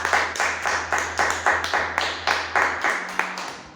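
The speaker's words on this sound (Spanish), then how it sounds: "Denle un aplauso al Señor si recibe esta palabra" Inside a church, the congregation claps together in a quick, regular rhythm, each sharp clap landing in unison at a steady beat for several seconds.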